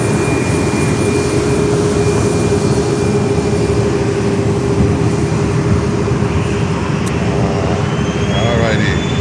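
A Southwest Airlines jet passes overhead at Fort Lauderdale airport, its engines a loud, continuous roar with a sustained whine riding on top, steady from start to finish.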